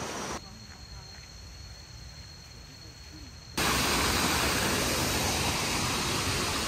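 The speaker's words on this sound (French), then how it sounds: "On s'aventure dans la cascade de la jungle." Jungle waterfall in Chiang Rai, Thailand: a broad, steady roar of rushing water that jumps much louder partway through, as if stepping close to the falls, with faint voices underneath earlier.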